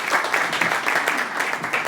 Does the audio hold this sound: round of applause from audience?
yes